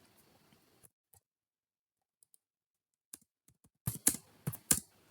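Someone typing C# code on a computer keyboard: sparse, faint clicks at first, then a quick close burst of louder keystrokes near the end, with no talk.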